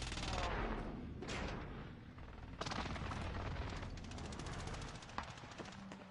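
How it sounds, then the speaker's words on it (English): Airstrike explosions in the video game Call of Duty Warzone, a burst of heavy booming impacts and crackling blasts rolling over several seconds, fairly loud with no talk over them. "Marking airstrike target. This is Phoenix 3. Strike inbound."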